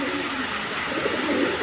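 A male Dragon pigeon at a breeding farm coos in a short, continuous low burble, close and moderately loud over a steady background hiss.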